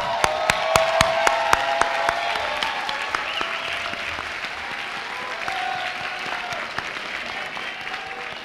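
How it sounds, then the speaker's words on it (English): A commencement audience at Bronx Community College rises and applauds family and friends, a loud, dense crowd ovation with many sharp individual claps standing out above it, sustained throughout. "may we all please rise and applaud the wonderful people sitting amongst the audience here"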